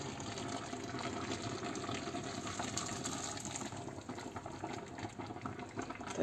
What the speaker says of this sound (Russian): И залила водой, и сейчас это все пойдет на голубцы.